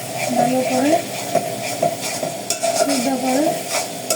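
Finely chopped chicken fries in a pan for chicken fried rice, with a steady loud sizzle broken by repeated scraping strokes of a stirring spoon and a squeaky pan-scrape pattern recurring every second or so.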